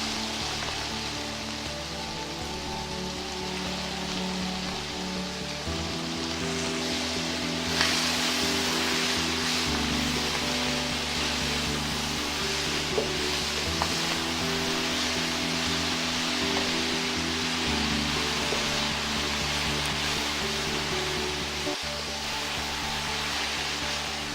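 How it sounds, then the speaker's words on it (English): Fresh methi (fenugreek) leaves sauté in a pan for an Indian tomato curry, giving a steady, close hiss and sizzle with a faint hum underneath and no talking. "Once it sautés a bit, add in the methi and let it cook for a few minutes."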